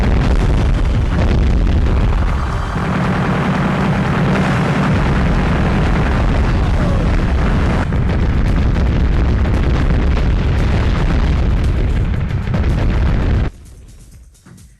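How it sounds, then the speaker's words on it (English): Continuous explosions and booming blasts from the PS1/Saturn video game Mass Destruction, dense, loud and overlapping for about thirteen seconds before dropping off to quieter rumbling at the end. "The programmers placed emphasis on explosions."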